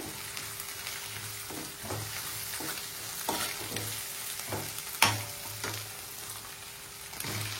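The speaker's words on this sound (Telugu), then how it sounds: "ఉడకబెట్టిన ఆలు వేస్తా ఉన్నాను." Boiled potatoes go into ginger paste frying in oil, giving a soft low sizzle with rhythmic stirring scrapes and one sharper clatter midway, quiet and without voices.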